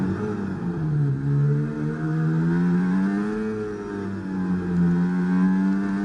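Race car engine heard from an onboard camera in a sim racing game at a Brazil circuit, revving hard and steadily with pitch rising and dipping through gear changes, loud and close with no talking.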